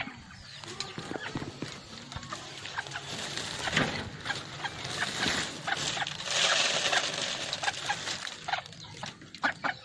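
Jungle fowl chickens cluck at feeding time, scattered clucks and scratchy bird calls rising and falling at moderate volume, with occasional tapping sounds and little talk.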